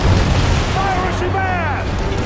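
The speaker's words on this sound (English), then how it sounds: "Rockets on your command!" A pirate ship fires rockets in Skull and Bones, loud booming blasts and whistling, rising streaks over a dense battle din, with a voice speaking over the action.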